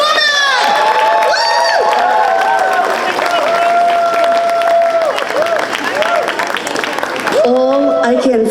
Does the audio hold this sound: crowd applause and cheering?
yes